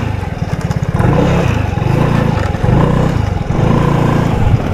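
Motorcycle engine running steadily close by with pulsing mid-range drone and slight revs while riding a narrow farm path toward Dela Peña Farm in Umingan, Pangasinan; no talk.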